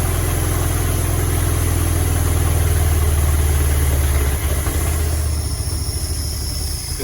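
A 1940 Mercedes barn-find engine idles close by with a deep, uneven rumble and an irregular misfire, steady for several seconds and then slightly lighter toward the end.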